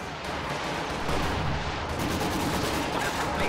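A dense, continuous roar of explosions and artillery fire rumbles without a break as Stuka dive bombers strike in a wartime strategy game match, loud and wide with no clear separate blasts.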